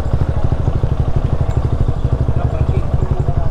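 Motorcycle engines idling and revving at the parking area of Taytay Falls in Majayjay, a loud, close, steady pulsing rumble with rattling clatter throughout.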